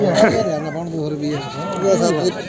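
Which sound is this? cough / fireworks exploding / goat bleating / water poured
goat bleating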